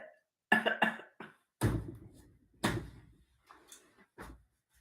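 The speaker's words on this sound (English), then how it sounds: "Sounds like a dry cough to me." Dry coughs from someone nearby, several short bursts with gaps between them, recorded alone with no talking.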